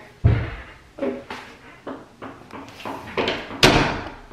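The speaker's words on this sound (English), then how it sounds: "He just opened the door." A door opened indoors with a series of sharp thumps, knocks and rattles spread over a few seconds, close and fairly loud, ending on one harder bang.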